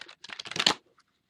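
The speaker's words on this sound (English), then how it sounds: "Shuffling with the backs up," A deck of Lakota Sweat Lodge cards with a strong curved bias is shuffled backs up, giving a quick burst of crisp riffling and flapping card noise that stops abruptly, followed by faint small taps.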